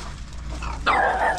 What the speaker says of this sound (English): Here's the little doggies.